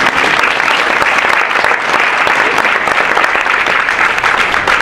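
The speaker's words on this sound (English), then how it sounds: "I think that deserves a round of applause." Warm audience applause at an art museum talk, full and steady clapping that holds at a constant loud level for several seconds, with no speech over it.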